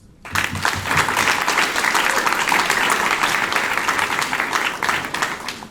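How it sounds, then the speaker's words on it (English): An audience at a youth entrepreneurship competition breaks into loud, sustained applause that starts abruptly and holds steady, dense clapping from a large crowd, easing slightly at the end. "Congratulations, and enjoy this round of applause."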